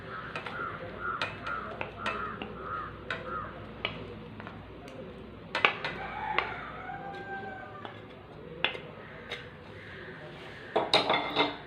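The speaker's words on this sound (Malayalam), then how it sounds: "ഇത് നന്നായിട്ടൊന്ന് മിക്സ് ചെയ്തെടുക്കാം." Fried banana is stirred into egg in a bowl for Malabar kayipola, with intermittent utensil clinks and scrapes against the bowl while crows caw in the background.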